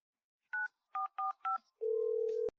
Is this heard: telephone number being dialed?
yes